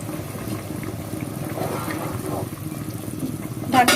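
Hot water simmers in a pot of chicken pulao, a low bubbling murmur that rises and falls at a moderate level, then ends with a brief sharp clatter near the close.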